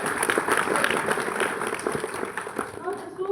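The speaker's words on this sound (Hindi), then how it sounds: "जोरदार ताली एक बार कर दीजिए" An audience applauds loudly at an indoor talk on health and digestion, steady dense clapping running throughout, with a voice speaking over it.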